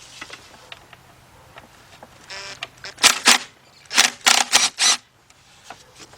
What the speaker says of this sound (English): I'm going to use my 6-inch extension and my cordless impact